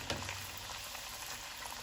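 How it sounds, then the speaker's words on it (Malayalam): Masala puri frying in hot oil, a soft continuous sizzle and bubbling crackle heard close up and alone, fairly quiet throughout. "നമ്മുടെ എണ്ണ ഇവിടെ ചൂടായിരിക്കുകയാണ്, അതിനകത്തേക്ക് ഇട്ട് കൊടുക്കാം"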